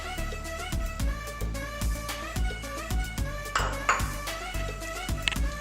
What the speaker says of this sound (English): And yes, I'm stirring everything in